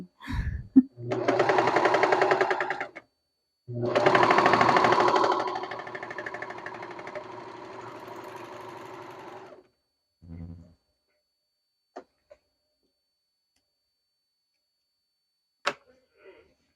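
A serger sewing machine stitching sleeve pieces, running in two loud continuous bursts, the second fading down before stopping, followed by a few faint clicks in near silence.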